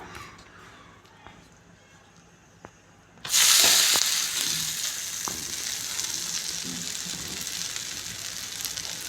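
A breakfast dish fries in oil on a pan: quiet at first, then a sudden loud burst of sizzling when more oil goes in, settling into a steady, close crackle that carries on to the end.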